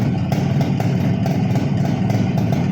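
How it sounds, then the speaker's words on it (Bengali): A car engine in fresh condition idles steadily at close range, a continuous low rumble with a faint regular pulse and no voices over it. "যেমন এর ইঞ্জিনটার সাউন্ড"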